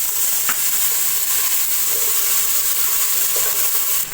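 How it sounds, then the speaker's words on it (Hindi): Ginger garlic paste is mixed into golden-brown fried onions in a hot pan, producing a loud, steady oil sizzle and hiss with a few faint spoon scrapes, and no one speaking. "इसको मिक्स करूँगी।"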